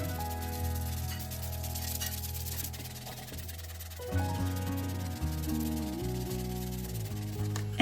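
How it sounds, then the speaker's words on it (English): Sandpaper of 120 grit rubbing over dried wood filler on a nightstand, a steady scratchy back-and-forth rasp close by with a slight shift in pace midway, heard alone over faint background music. "I'm going to sand it smooth using 120 grit sandpaper."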